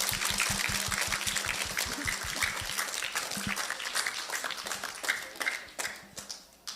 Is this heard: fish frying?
no